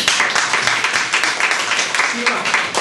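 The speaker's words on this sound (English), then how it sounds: "Let's give it a round of applause." Audience applause after a talk fills the room as a dense, steady wash of clapping at close range, sustained throughout with faint murmuring mixed in.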